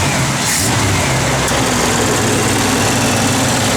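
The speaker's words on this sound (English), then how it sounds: "That's how you just kick the air compressor on. That's how it pumps all your." An air-ride suspension compressor runs on a 1966 Cadillac Coupe DeVille, giving a loud, steady mechanical drone and hiss that carries unbroken from start to finish, heard close up with no talk.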